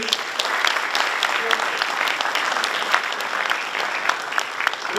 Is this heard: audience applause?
yes